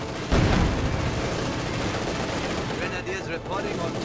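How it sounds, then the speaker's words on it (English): A Panzer Grenadier squad fires a rifle volley in the Company of Heroes 2 strategy game, a sharp burst of overlapping shots near the start that then gives way to continuous battle noise and faint chatter. "One Panzer Grenadier volley."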